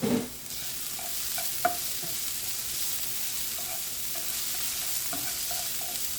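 Mushroom stuffing with oregano frying in a pan gives a steady close sizzle throughout, with a few soft clicks and taps of a utensil stirring against the pan.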